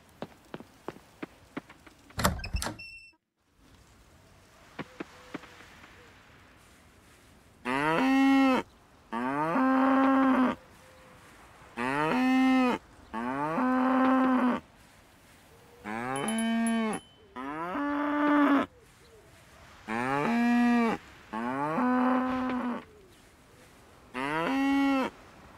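Cows mooing on a farm in the video game Coral Island: a run of long, loud, drawn-out moos repeating at steady intervals, preceded by a few short clicks and tones.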